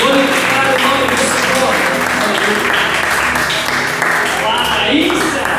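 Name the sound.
audience clapping hands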